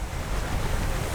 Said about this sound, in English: you might say the waves are a bit annoying